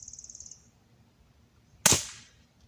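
A single sharp crack of a shot from a Barra 1866 Cowboy Series lever-style air rifle, with a quick decay. It comes after a brief, rapid, high ticking and a short quiet pause.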